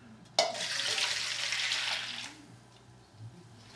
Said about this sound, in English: Add 3 cups of milk.